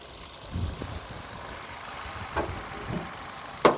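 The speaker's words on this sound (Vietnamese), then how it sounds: "Máy nổ siêu êm." A 2016 Hyundai i10 sedan with a 1.2-litre K3 engine and manual gearbox idles smoothly and steadily at close range, with a few faint clicks and knocks over the low, even hum.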